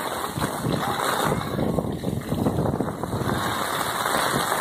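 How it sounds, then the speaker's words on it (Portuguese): Steady rain hisses and patters under gusting wind on the streets of Cacimba de Dentro, Paraíba, Brazil, loud and continuous throughout with a constant high whine in the background. "A chuva aqui é com vento"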